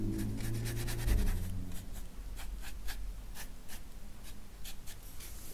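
A Japanese-style calligraphy brush drags across textured paper while watercolor is painted, making soft repeated scratchy strokes, quiet and close, with a low background hum.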